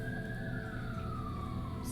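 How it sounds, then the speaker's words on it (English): An emergency vehicle siren wails steadily in the background, a single sustained tone slowly falling in pitch over a low rumble of distant traffic, with no voices. "So more sirens there in the background."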